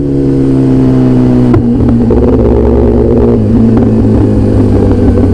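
A Kawasaki ZX10R motorcycle engine while riding, a loud, close, steady drone with one sharp change in pitch partway through and continuous wind-like rush, with no voices.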